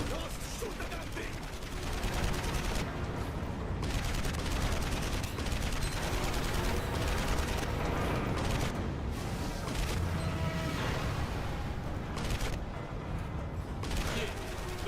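In a video game, weapons pound away at a machine's hydraulic weak spot in sustained rapid gunfire, mixed with mechanical clanks and creaks, and the dense barrage runs for around fifteen seconds.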